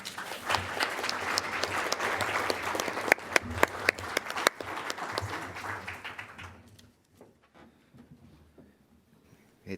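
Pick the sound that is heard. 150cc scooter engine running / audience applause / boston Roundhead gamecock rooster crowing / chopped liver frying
audience applause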